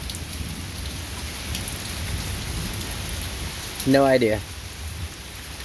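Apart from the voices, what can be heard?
rain falling with thunder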